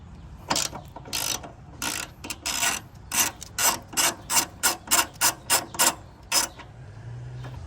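Socket ratchet turning 14 mm coilover bolts on an EK Civic, a quick run of repeated clicking bursts that grows steadier and more evenly spaced, close and fairly loud with no talking.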